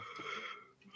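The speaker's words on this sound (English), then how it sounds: "Sorry for the yawn." A person lets out a drawn-out, breathy yawn with a slight wheeze, close to the microphone and lasting about a second, with no talking over it.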